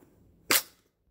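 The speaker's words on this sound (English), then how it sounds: "we'll try and do like a little speedy reload for you guys" A magazine is seated into a PTR 9CT pistol during a quick reload, making one sharp, close metallic click-slap that dies away quickly, with no talking.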